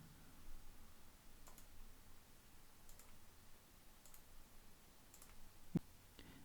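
A computer mouse clicks sharply at a few spaced moments while wires are drawn between components in Proteus 8 schematic software, quiet and close in an otherwise still room with no talk.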